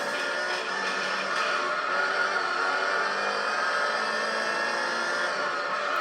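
Gran Turismo 3 race car engine held at a high, steady whine, a continuous buzzing drone with little change in pitch, loud and alone.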